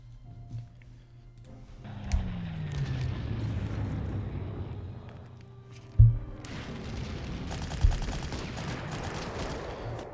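Gunfire and explosions from units in the Panzer Corps war game at Stalingrad, with a couple of sharp booming reports and rumbling barrage noise over a low steady drone.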